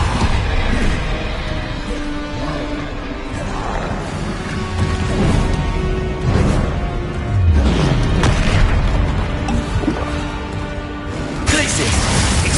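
Depulso spell effects in a video game hit as repeated booming, crashing blasts mixed with whooshes and game music, recurring every few seconds amid a busy, loud soundscape.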